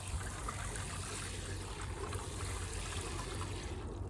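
Water trickles and pours steadily onto freshly planted wild garlic bulbs in a garden container, a soft, continuous splashing that stays even for a few seconds with no talking.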